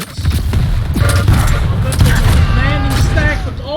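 Rocket launcher and railgun fire trade in a fast arena duel, loud booms and blasts running continuously over a steady low rumble, with a commentator talking over much of it.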